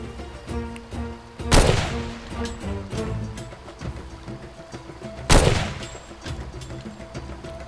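Two loud gunshot bursts ring out in the Far Cry 2 video game over layered music and ambient game sound, the blasts spaced a few seconds apart.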